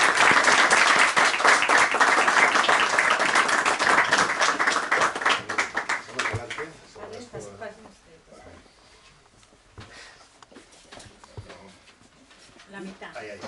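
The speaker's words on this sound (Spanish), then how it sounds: "Un fuerte aplauso." An audience at a book presentation and award ceremony claps in a loud, dense round of applause that fades out after about six seconds, leaving scattered claps and murmuring voices.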